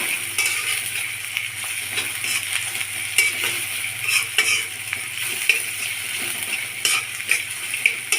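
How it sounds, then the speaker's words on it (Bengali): Chopped onions sizzle steadily in hot oil in a pan while a utensil stirs them, with scraping and clinks repeating through the continuous frying hiss. "পেঁয়াজগুলি নেড়ে চেড়ে কিছুটা নরম করে নিব।"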